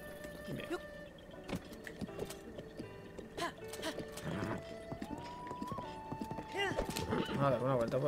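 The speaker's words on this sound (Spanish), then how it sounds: "Tomar el caballo" A horse in a video game clip-clops along at a steady gait, hooves trotting rhythmically, then gives a couple of shrill neighs near the end, with game sound effects and chimes mixed in.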